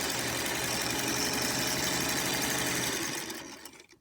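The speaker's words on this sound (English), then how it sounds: "So just going to sew down those tucks so that they don't go anywhere." A sewing machine runs continuously, stitching down wide fabric tucks at a steady, close, mechanical hum before slowing and stopping near the end.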